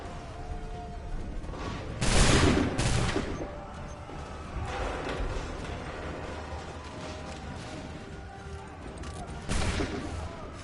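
Musket volley gunfire in the game Assassin's Creed 3, with a loud close volley early on, a smaller one later and battle ambience in between.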